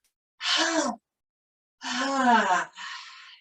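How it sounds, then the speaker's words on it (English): Two drawn-out, voiced exhales follow a held breath during a relaxation exercise, each a soft sighing groan; the first is short and the second longer, trailing into a breathy release, close and alone in an otherwise silent space. "Hold your breath, tighten, tense, clench, squeeze, and then 2 exhales."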